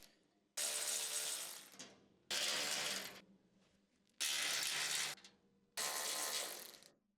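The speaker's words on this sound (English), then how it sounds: "Use a mid-size H 4mm socket with a mid-size electric impact wrench" A mid-size electric impact wrench with a 4mm socket backs out the side panel mounting bolts on a UTV, firing in four loud, separate bursts of about a second each with short quiet gaps between them.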